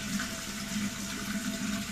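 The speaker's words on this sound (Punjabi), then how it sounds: "ਘੜਾ ਆਪਾਂ ਭਰ ਲਿਆ ਦੇਖੋ" Water is poured steadily into a clay pot, a continuous gurgling rush at close range with no break.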